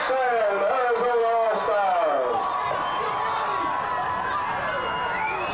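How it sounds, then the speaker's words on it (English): Crowd noise from spectators at a sixth-grade youth all-star football game, cheering and chattering after a touchdown. The crowd sits steadily underneath a commentator's voice, with whistles and shouts rising over it. "Crowd's getting crunk"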